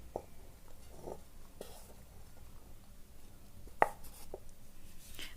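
Green chillies, cumin and salt are pounded in a stone mortar, giving faint, irregular dull thuds with one sharper knock in the middle, and quiet scraping between the strikes.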